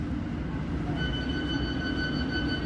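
A London Underground Hammersmith and City line train rolls along near Shepherd's Bush Market, a steady low rumble of wheels and motor inside the carriage with a faint whine.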